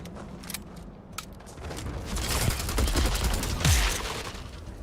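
Gunfire in Starfield: a few sharp, separate shots ring out first, then a louder, thicker flurry of firing and impacts builds up and fills the rest of the moment.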